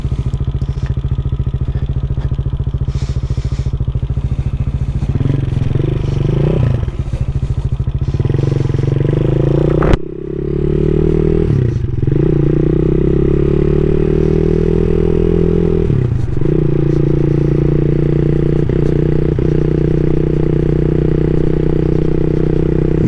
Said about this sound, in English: that beautiful rumble from the new exhaust kit